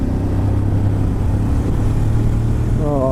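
Riding a 2018 Ducati Monster 1200 S motorcycle with steady engine drone heavily mixed with wind rush, a low continuous roar with a brief rising rev at the very end.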